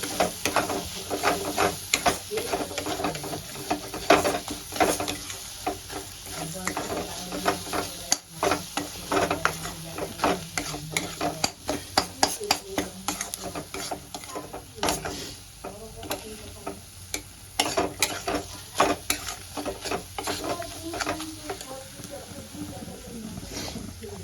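Ground spices (turmeric, coriander, cumin and chili powder) fry with ginger and garlic in a pan for an egg curry, producing a low sizzle broken by frequent irregular scraping and clicking from stirring.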